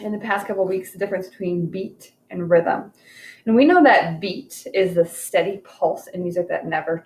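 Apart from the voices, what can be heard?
No distinct noise like a dog, phone or traffic.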